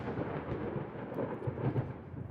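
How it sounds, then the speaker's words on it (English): Thunderstorm in the naval game Ultimate Admiral, a dense, continuous low rumble of thunder and rain noise, steady and fairly loud with no distinct claps, no voices. "And it sounds like it's going to be in the middle of a storm."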